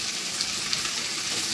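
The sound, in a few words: chopped tomato added to frying onion, ginger and garlic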